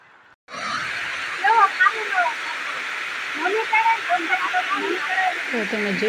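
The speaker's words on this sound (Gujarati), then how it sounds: "તો તમે જોઈ શકો આમ ફૂલ પાણી જાય છે ડેમમાંથી" Water rushes out of a farm dam in the countryside, a loud continuous broadband roar that holds steady throughout, with faint voices and outdoor sounds mixed into the flow.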